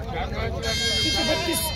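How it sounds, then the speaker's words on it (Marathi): An Osmanabadi goat bleats at a busy livestock market in Vasmat, Hingoli, Maharashtra, its wavering cries rising over steady crowd babble and nearby chatter. "एक उस्मानाबादी शेळी आहे मित्रांनो अलीकडची"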